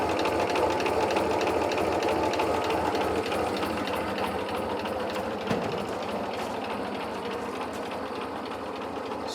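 A 1955 Massey Harris tractor engine idles unevenly on only two cylinders, a steady close-up chugging with a rapid, lumpy rhythm and a loud, constant mechanical clatter, with no talk over it.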